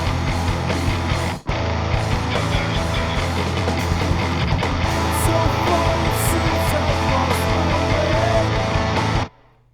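A dense, loud rock mix of distorted guitars through amp plugins and a Bass Forge Hellraiser bass with drums, playing continuously, dropping out for a split-second break near the start and cutting off abruptly at the end.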